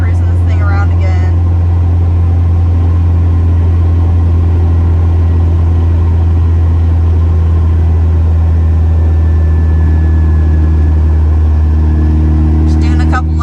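Boosted Honda Del Sol with a new engine cruising, its steady engine drone loud and close throughout, with brief speech near the start and end.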